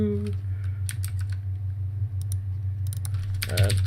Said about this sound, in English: once again, ignore my typing